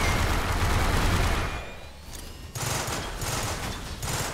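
Rapid gunfire from a video game shooter in Synthetik 2, dense bursts with mechanical clatter for about two seconds, a brief lull, then sustained firing resumes, loud and close without any voices.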